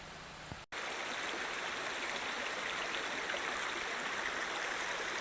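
Water rushes steadily down a mountain valley stream at Wangbang Valley, a close, even gushing that fills the scene after a brief click at the start, with no voices.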